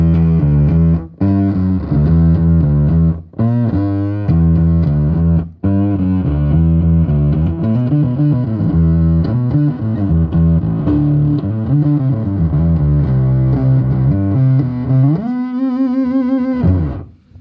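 A 2003 Fender CIJ Mustang short-scale bass guitar played with a gritty, distorted rock tone, delivering a continuous run of loud, sustained notes and slides with no talking.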